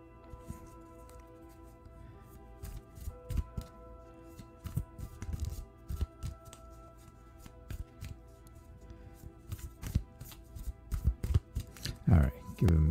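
Close, soft riffling and slapping of a deck of reading cards being shuffled, in repeated bursts across the clip, fairly quiet under a low background hum during a live broadcast.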